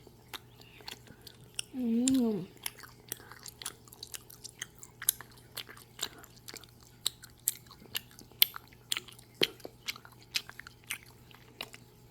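Someone bites and chews hamburger-shaped ice cream close to the mic, giving soft repeated wet chewing clicks over about twelve seconds, with a short hummed murmur near the start.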